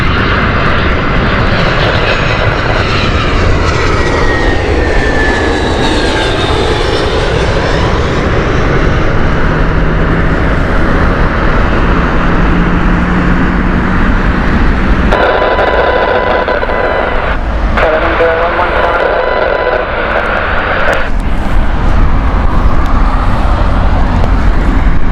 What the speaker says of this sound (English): We have next Amsterdam flight here. That is Airbus A319.